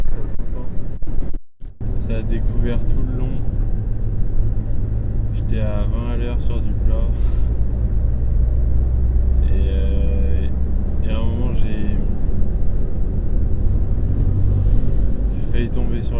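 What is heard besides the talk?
strong violent wind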